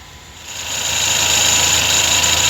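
A cold VAZ-21083 car engine just started runs at a steady idle, loud and close, its revs settling into an even mechanical drone with slight knocking vibration throughout.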